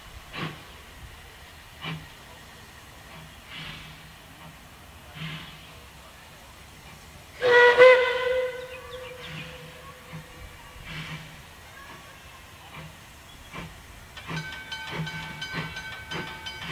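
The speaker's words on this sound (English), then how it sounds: "the train departs for Lakeside" Puffing Billy steam train departing Menzies Creek for Lakeside: a loud steam whistle blast cuts in midway over rhythmic chuffing and a steady hiss of steam, with a second, higher whistle tone near the end.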